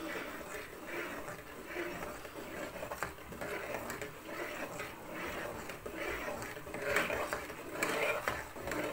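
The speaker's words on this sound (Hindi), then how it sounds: "बराबर चमचा चलाते जाना है हमने, जब तक ये पक ना जाए" A spoon stirs custard in a pot over low heat, a soft continuous scraping and clinking of metal against the pan, quiet and close, with a faint voice now and then.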